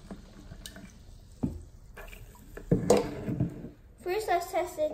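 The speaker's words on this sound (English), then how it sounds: "Let's pour some water in." Essentuki No. 17 mineral water is poured into a container for a pH and TDS test, with soft splashes and trickling, a brief louder glug near the end, while someone talks over it.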